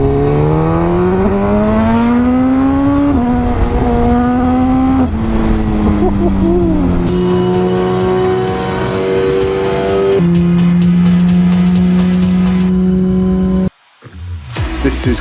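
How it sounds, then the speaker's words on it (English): A Suzuki GSXR1000R motorcycle screams on a dyno, pulling loudly through the gears. Each upshift brings a pitch drop, the engine holds near redline, then it abruptly cuts off and spins down. "we're doing the first run on the dyno to see how far out we are"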